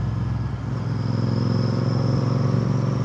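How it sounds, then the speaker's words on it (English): Royal Enfield Interceptor 650 parallel-twin motorcycle idling close up, a steady loud, throbbing exhaust burble with a low pulsing rhythm throughout and slight clatter, no voices. "let's end this vlog with a beautiful exhaust note"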